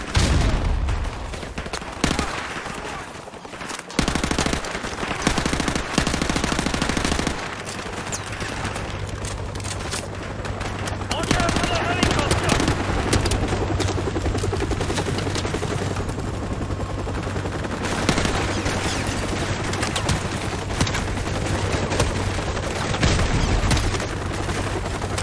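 Sustained heavy gunfire from Call of Duty 4: Modern Warfare during a compromised retreat across a field, with dense overlapping automatic bursts and loud shots filling nearly the whole stretch, punctuated by brief drops and a low rumbling background.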